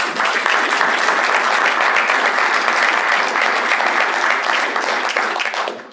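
Conference audience at a corrugated-technology presentation applauds its speakers, dense sustained clapping filling the room at full strength for several seconds before tapering at the end, with no talk over it.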